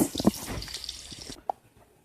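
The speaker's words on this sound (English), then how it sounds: "So I'm going to take a little bit of this oil out, and then I'll come back to this." Cooking oil is spooned out of a frying pan of fried onions while making locrio de jamón con salchicha. Close, brief liquid drips and light splashes are followed by a pause, then one last clear drip.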